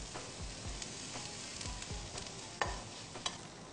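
Basil and lime stirred into a hot sizzling pan, with a steady fry hiss under repeated scraping stirs and a few sharper clinks, close up and with no talking.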